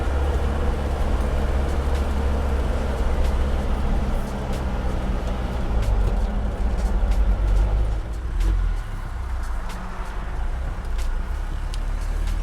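A restored Mercedes 240GD in fourth gear, its diesel engine droning steadily with heavy low-end rumble and road noise throughout, a brief dip in level near the end as it keeps rolling.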